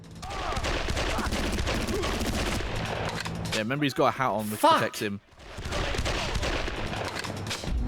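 Bursts of rapid gunfire from the video game Made Man, loud and repeated, with someone talking over the shooting and a brief lull in the middle.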